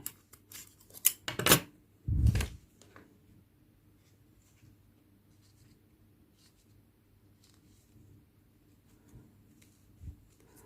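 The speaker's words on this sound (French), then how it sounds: "Et je coupe ce morceau de fil." Scissors snipping crochet yarn on an amigurumi tiger keychain: a few crisp close snips in the first seconds, then near silence with faint handling and a soft tap near the end.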